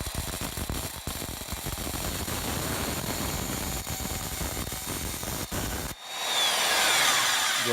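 A Milwaukee bandsaw, set up like a small table saw, trims a little piece of stainless steel with a steady, close grinding rasp for about six seconds, then shifts into a brighter, higher whine as the cut finishes.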